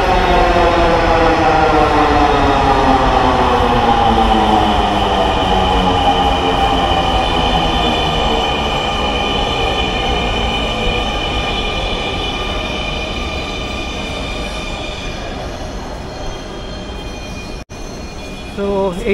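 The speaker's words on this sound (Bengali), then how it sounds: "তো এই ট্রেনটা উত্তরা থেকে এসেছে আর যাচ্ছে আগারগাঁ দিয়ে" A Dhaka Metro Rail train pulls into a station, coming from Uttara toward Agargaon. Its loud, steady electric motor whine falls in pitch as it slows, with some rumble under it, then eases off near the end.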